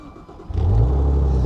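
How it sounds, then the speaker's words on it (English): A Maserati that had been submerged starts up and revs, its engine and exhaust swelling into a loud, close, steady low rumble that holds after the initial surge, with no talking. "Listen to that exhaust."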